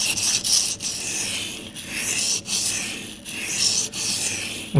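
A knife blade is drawn across a 6000 grit whetstone that feels a little coarse. It gives a steady, fairly loud rubbing rasp in repeated strokes, with brief pauses between passes.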